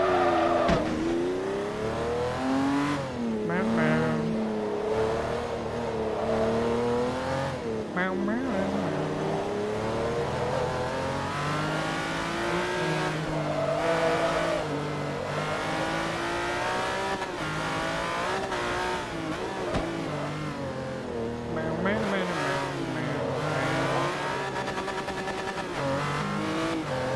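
Race cars in the Forza Motorsport 3 video game on the Fujimi Kaido course, engines droning and revving continuously through gear changes, with a Mitsubishi among them, while a player talks excitedly over the racing sounds.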